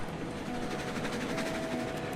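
A train running in Railroads Online, a steady, close rolling rumble with faint rhythmic rail clatter and a continuous mechanical drone.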